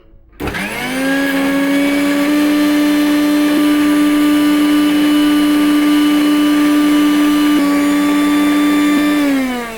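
Kitchen mixer grinder (mixie) switched on, its motor spinning up fast to a loud steady whine that holds for several seconds, close and uninterrupted, with no talk.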